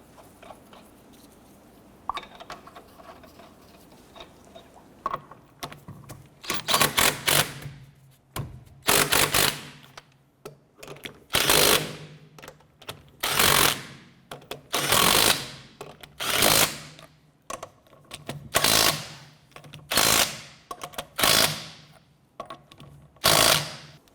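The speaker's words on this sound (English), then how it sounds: "Go ahead and get your lug nuts installed by hand, and then we'll go ahead and snug them all down." An impact wrench fires repeated short, loud bursts as lug nuts are run down on a 2006-2013 Chevrolet Impala wheel, the sharp rattling buzzes coming at a steady rhythm after a quieter start.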